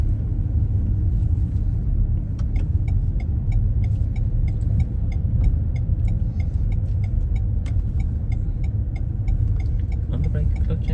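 A car drives steadily through a mock driving test in Finglas, a continuous low road rumble and engine drone under faint ticking, with an instructor's voice talking over it throughout.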